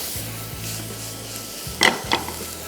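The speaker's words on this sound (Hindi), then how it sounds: "और इसमें सबसे पहले शामिल हो गया ये गार्लिक। थोड़ा सा इसको फ्राई किया, बहुत ज़्यादा ब्राउन नहीं करना है" Garlic is stirred and fried in a pan, with a soft steady sizzle under a low hum and two distinct scraping strokes of a utensil near the end, heard up close with no talking.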